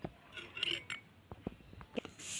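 A metal spoon clinks lightly against a glass or dish while a tablespoon of syrup is taken for a science practical, giving a few quiet, scattered taps and chinks.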